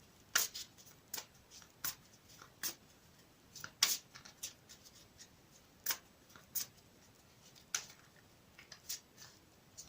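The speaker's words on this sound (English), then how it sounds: "I'm going to shuffle it again for you on camera." A deck of cards is shuffled repeatedly, with quick crisp riffling bursts separated by short pauses, close and fairly quiet, no talking.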